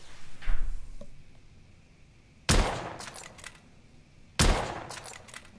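A weapon in the video game The Order: 1886 fires two sharp, loud gunshots a couple of seconds apart. Each one rings with a short echoing tail, and a fainter thump comes earlier.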